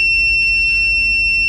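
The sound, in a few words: multimeter continuity beep testing graphics card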